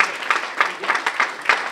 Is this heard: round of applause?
yes